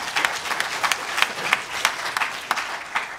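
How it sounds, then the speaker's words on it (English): Scattered, fairly sparse claps from a conference audience at a closing session, with distinct individual hand strikes repeating steadily for about three seconds at moderate loudness. "And so give yourselves a round of applause."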